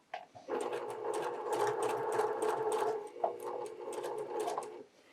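A sewing machine runs steadily while stitching irregular patchwork curves with a quarter-inch seam allowance, a close, continuous motor whir with brief pauses and speed changes, heard alone.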